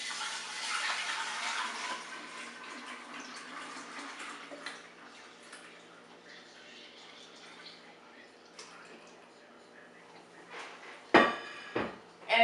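Steeped green tea sweetened with raw sugar poured into a brewing jar with a spigot, a close splashing pour that tapers into a trickle, followed by a few sharp clinks of glass at the end.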